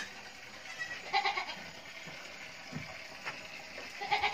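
Several goats bleat near their pen in a mountain farm setting, a handful of wavering calls from middle distance over faint background noise.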